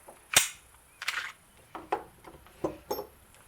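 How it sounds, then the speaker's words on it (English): Metal clicks and clacks from a Sig Sauer SP 2022 9mm pistol as the slide is let down and the retaining pin pushed out, starting with one sharp snap and followed by several softer, irregular knocks, all close. "Go ahead and just let the slide down a little bit, and you'll be able to push your retaining pin out from the other side."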